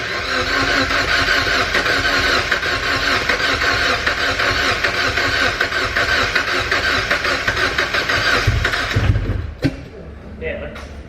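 A turbocharged Mazda MX-5 engine fires up for its first start and runs rough, a loud, close, uneven idle with a lumpy, stumbling rhythm for about nine seconds before cutting out, with brief clatter afterward.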